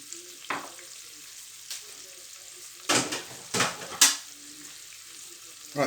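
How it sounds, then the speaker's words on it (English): Thai red curry paste sizzling in a hot pan, with soft background hiss broken by several louder bursts of frying crackle, as if the paste is being stirred, close by and with no talking. "Right, so we've got a little bit of a sizzle."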